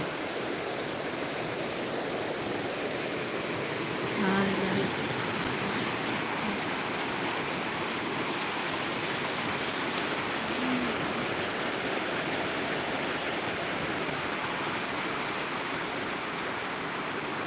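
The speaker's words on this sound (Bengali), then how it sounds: "প্রচুর বৃষ্টি হচ্ছে" Heavy rain pours during a 2 a.m. storm, a dense, even roar of falling water that stays constant throughout with no talking.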